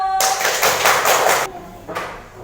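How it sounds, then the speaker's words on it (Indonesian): A class applauds a student group at the front of a classroom, a dense burst of many hands clapping for over a second, then fading to a softer patter with a brief second flurry. "Aplaus untuk kelompok satu"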